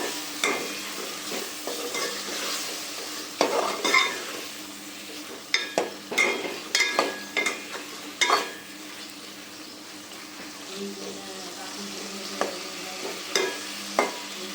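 Vegetables fry and get stirred in a spice masala in a pan, a steady sizzle broken by repeated sharp scraping strokes of a spoon against the metal, close by and with no talking.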